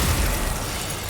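Glacius ice spell cast in Hogwarts Legacy, a short, punchy burst with a deep thump at the start that quickly fades into a low, rumbling hiss.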